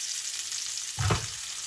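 Octopus tentacles drop into hot melted fat for a crisp grilled octopus salad, a steady background hiss swelling into a louder burst of frying sizzle about a second in, then settling back to a constant crackle.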